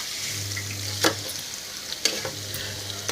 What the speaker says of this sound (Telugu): ఒక ముక్కని అలాగే నిదానంగా స్పూన్తో తిప్పండి